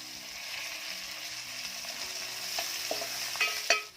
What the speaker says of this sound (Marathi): लसणाचा रंग बदलला की त्यामध्ये बारीक चिरलेला कांदा घालायचा आहे